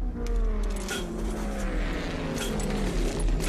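An old driving instructor's car, running with a steady low engine drone and whining tonal hums that shift in pitch, with intermittent rattles and clinks like jangling keys inside the cabin, heard from within the car.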